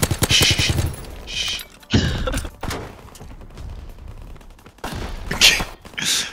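Rapid automatic gunfire from a Call of Duty WWII prop hunt match, loud close bursts of rattling shots in several volleys with brief pauses, mixed with thumps and other game noise.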